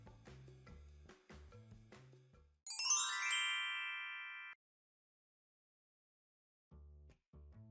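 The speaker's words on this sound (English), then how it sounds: "answer your phone." A phone ringtone gives one bright, metallic chiming burst that rings for about two seconds and then stops, set between soft low thuds in an otherwise quiet room.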